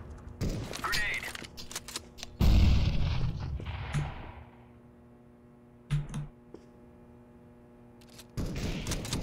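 A grenade blast in CS:GO lands as a loud low burst, followed by gunfire and sharp cracks. A player speaks over the game sounds, which are close and intermittent.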